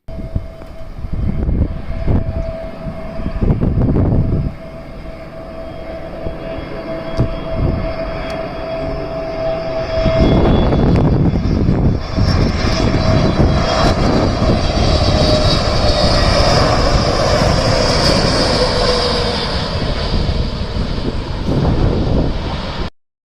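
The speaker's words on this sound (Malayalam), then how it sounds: "കോഴിക്കോട് വിമാനത്താവളത്തിലെ ചില വിമാനങ്ങളുടെ ലാൻഡിങ്ങും ടേക്ക് ഓഫുമാണ് ഇന്നത്തെ വീഡിയോയിൽ" Airliners landing and taking off at Calicut International Airport (Karipur), a loud, sustained jet engine roar that swells and builds over time, heard alone without any talk.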